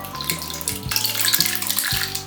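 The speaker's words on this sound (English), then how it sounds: "Now let's pour the wet mixture." A steady stream of wet cornbread batter mixture pouring and splashing into a bowl, with bright watery gurgling over a low hum.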